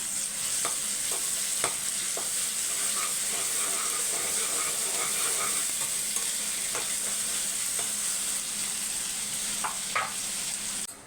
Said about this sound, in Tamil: முதல்ல வந்து வெங்காயம் வதங்கட்டும்